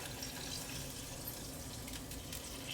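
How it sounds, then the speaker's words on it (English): Water runs steadily into a cooking pot that already holds browned garlic, with 3 cups added alongside balsamic vinegar for a caramelized garlic, spinach and cheddar tart; a continuous close splashing pour with no talk. "we are going to add our 3 cups of water and 3 tablespoons of balsamic vinegar"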